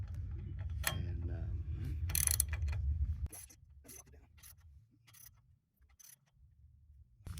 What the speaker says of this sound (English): We're using a ratchet wrench, 3/4,